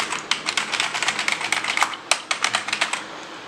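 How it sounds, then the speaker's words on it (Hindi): Close, brisk typing on a Quantum wireless keyboard, a rapid run of crisp individual key clicks with short pauses between bursts. "तो आप देख सकते हो कि बिना वायर के इस तरह टाइप अप कर सकते हो।"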